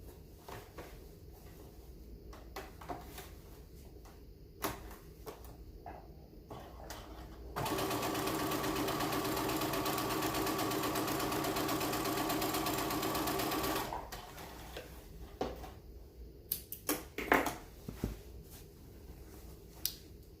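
A sewing machine stitches fabric after a pivot at the needle, running in one steady burst of about six seconds. Quiet handling clicks and taps of fabric and tools come before and after the run.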